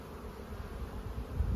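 Honeybees buzz around an open hive being split, a steady, close, low hum with no voices.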